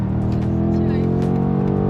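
A 2025 BMW M5 accelerates hard. Its engine drone climbs steadily and sounds loud inside the cabin while someone talks over it.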